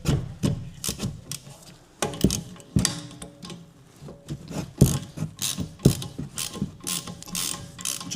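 A socket wrench ratchets on the rear brake caliper of a 2022 Nissan Juke, making close bursts of quick metallic clicking with short pauses between turns, with no voices.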